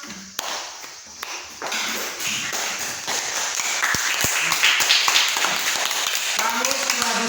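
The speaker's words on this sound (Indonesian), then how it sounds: "Baik, tepuk tangan." A classroom of students claps in response to a teacher's call, a dense patter of many hands that builds and holds steady for several seconds after a few scattered taps, with some voices mixed in.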